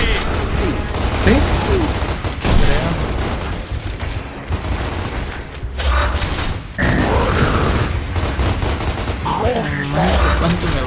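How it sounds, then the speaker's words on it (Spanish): Chaotic Gears of War combat: a grenade launch amid heavy bursts of gunfire and mechanical weapon clatter, loud and dense throughout, with booms and shouted voices mixed in. "¡Lanzando granada!"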